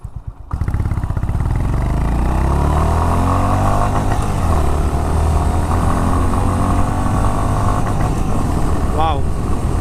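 Honda H'Ness CB350 motorcycle engine pulling hard after a U-turn, a loud, close, continuous exhaust drone climbing steadily in pitch as the bike accelerates through the gears, with wind rush and a brief gear-change dip near the end.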